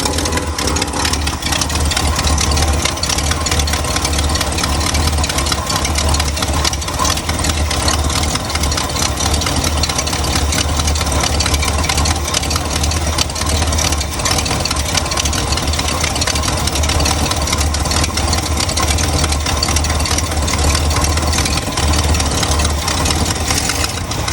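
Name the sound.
1970 Cadillac hearse engine idling with Edelbrock 1406 carburetor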